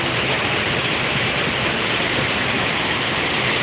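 A heavy downpour pours over Surat city, a thick, loud, continuous roar of rain that stays steady throughout.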